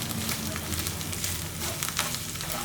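Chopped onions with coconut sautéing lightly in a pan while preparing a ragi adai, a soft continuous sizzle with faint scraping and stirring textures, fairly quiet and steady, no one speaking.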